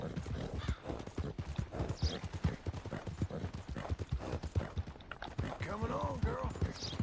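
Horse hooves clip-clop steadily through most of the stretch in Red Dead Redemption 2, joined by a brief whinny near the end, while someone talks over the rhythm.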